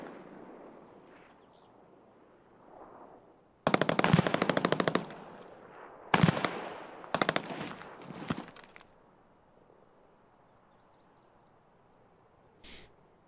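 Mosin rifle and MP5 trading fire in an Escape From Tarkov gunfight on Shoreline: loud rapid automatic bursts with sharp single shots in three clusters, then quiet ambience and one last faint shot.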